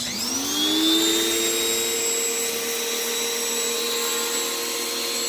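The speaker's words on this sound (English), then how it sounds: "I got the soap in the pressure washer." A pressure washer fitted with a soap nozzle sprays soap onto the wheels of a Chevrolet Suburban, its motor whining up to a loud, steady, even drone that runs without a break.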